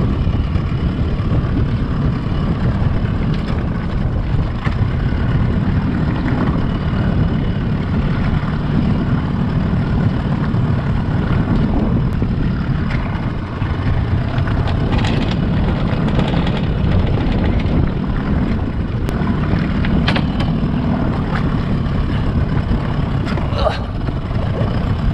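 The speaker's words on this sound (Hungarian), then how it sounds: "Megyek, felhúzom a horgonyt, motor megy." A boat's motor runs steadily after the anchor is raised, a constant low engine drone and rumble that stays even throughout, with faint clicks and knocks on top.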